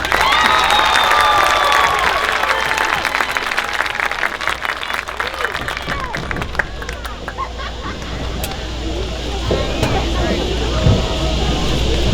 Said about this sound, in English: Round of applause for row 7